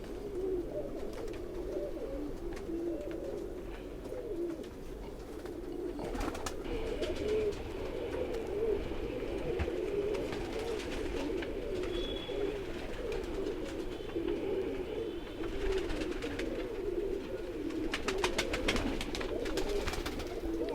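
Bater pigeons coo steadily in a low, murmuring chorus that runs throughout, close and continuous, with occasional rustling and a faint higher whistle.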